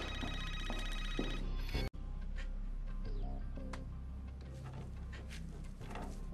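Telephone ringing with a repeated electronic trill, cut off abruptly partway through, followed by quieter clicks and faint room sounds.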